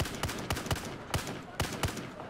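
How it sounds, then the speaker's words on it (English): Battlefield 4 multiplayer gunfire plays loud and close on a PS4, with sharp bursts and single cracks repeating in quick irregular succession over a dense background of game noise. "These gunshots are so loud right now on my headphones."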